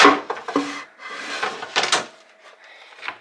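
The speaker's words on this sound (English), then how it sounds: "3 drawers with slow close on each side" Slow-close dresser drawers slide and bump shut several times, with soft wooden knocks and scraping, close by and without talk.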